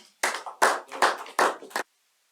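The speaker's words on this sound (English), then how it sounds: "I'd like the audience to give a good round of applause" A handful of hands clapping at a Toastmasters club meeting, five short separated bursts of claps over about two seconds, close and fairly loud, then silence.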